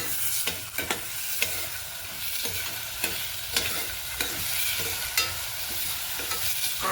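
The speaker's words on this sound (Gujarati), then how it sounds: "લસણ મરચાંની પેસ્ટ, 1 ઇંચ આદું ખમણેલું, અને ટામેટાં. આ બધું મિક્સ કરી દઈએ." Garlic-chili paste, grated ginger and chopped tomatoes stirred in a pan for Gujarati green pea ragda, with steady sizzling and frying under repeated sharp scrapes and clinks of the spoon against the pan.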